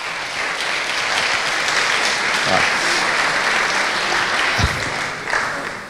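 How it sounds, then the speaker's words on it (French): An audience at an evening presidents' gathering applauds steadily for several seconds, a dense, even wash of clapping, with a brief spoken word heard over it. "je vous demande de les applaudir parce qu'ils le méritent."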